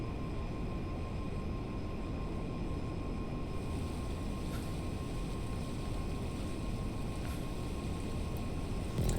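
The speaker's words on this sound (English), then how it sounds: "The train is passing overhead on the bridge." A train passes overhead on a bridge in Raton Canyon in GTA Online during a Deluxo race: a steady, broad rumbling roar that holds at one level under the constant rush of the vehicle, with faint metallic clanks.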